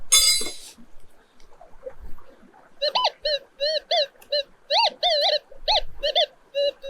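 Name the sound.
Minelab Gold Monster 1000 metal detector signalling over gold pan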